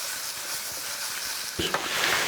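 Fresh green beans sautéing in a pan for a yogurt green bean dish hiss and sizzle continuously up close, with a brief clatter of stirring partway through.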